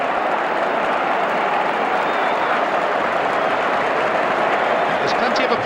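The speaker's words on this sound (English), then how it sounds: "There's plenty of applause ringing round Anfield." Football crowd at Anfield during a 1992/93 Liverpool vs Tottenham Hotspur match applauding, a dense, steady wash of clapping that fills the whole stadium without a break.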